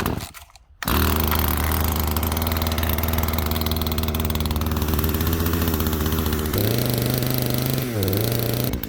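A cheap custom-built chainsaw with a full wrap handle and modified exhaust pulls into life after a brief cord tug, then idles loudly and unevenly up close as it warms up, with its pitch shifting near the end.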